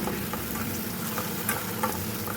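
Tomato with salt and turmeric powder sautéing in a pan, a steady close sizzle and crackle with faint stirring scrapes running through.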